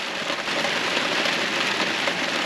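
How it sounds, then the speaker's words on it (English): Heavy rain pours steadily on an outdoor rural property, a dense, loud, constant hiss of drops hitting surfaces with no pauses. "It's raining something fierce."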